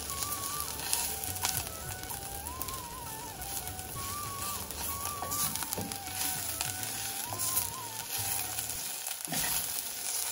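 Spices sizzling in oil for tempering in an Instant Pot on sauté mode, a dense continuous crackling fry with faint stirring, steady and close, with a faint chirping sound in the background.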